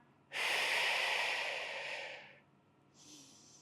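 A single long, loud breath through the nose or mouth during a reformer Pilates exercise, rushing and airy, fading slowly, followed by a shorter softer breath.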